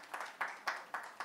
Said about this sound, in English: Love for all of you to welcome him with a round of applause